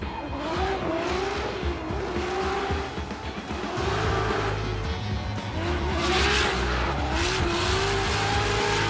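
A drift car tears through a run at the Igora Drive circuit in the RDS GP round, its engine roaring continuously while tires squeal in long sweeping howls, loud and close throughout with no talk over it.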